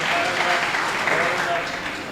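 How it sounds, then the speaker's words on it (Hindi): Audience applause at an Urdu mushaira poetry gathering in Pune, a dense burst of clapping from a crowd that rises and holds for a couple of seconds, with voices mixed underneath. "मैं चाहता हूँ आप इस्तक़बालियत तालियां बजाइए।"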